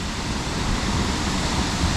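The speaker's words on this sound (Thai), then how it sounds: "น้ำตกชั้นที่หนึ่งเรียกมารีวัน น้ำตกมะริวัน แต่ว่าตกสูงมากเลยฮะ" A tall first-tier waterfall, Mariwan falls, gives off a continuous broad rushing roar, steady and close, with no voices over it.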